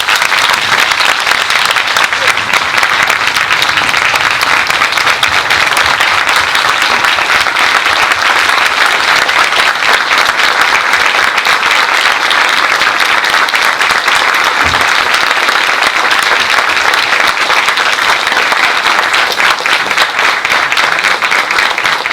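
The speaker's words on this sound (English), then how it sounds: "let's one more round of applause, please." Sustained, dense applause from an evening audience honoring Ruth Coker Burks and Cleve Jones, a steady loud roar of clapping lasting throughout with no break.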